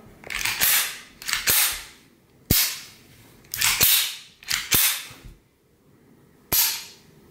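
A Unique model L 7.65 pistol clicks sharply through several separate metallic dry-fire snaps and slide actions after reassembly, close and distinct, with short pauses between them and no talk.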